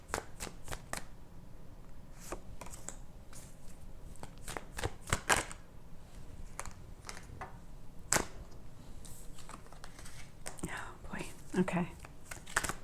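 Tarot cards are shuffled up close in repeated quick riffling bursts and soft slaps, with short pauses between them and faint whispering underneath.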